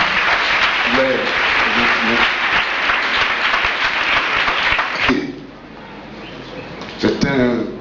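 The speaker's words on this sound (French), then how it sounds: "Est-ce qu'on peut déjà acclamer cette biographie?" Applause from a church congregation acclaiming a biography, a broad sustained wash of clapping for about five seconds, then dropping away, with voices talking over it and a brief shout near the end.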